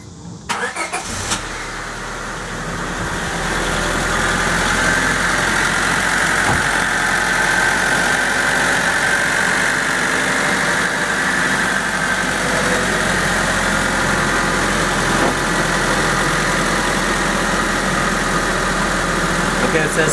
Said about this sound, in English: start the engine, and then turn the heater on max.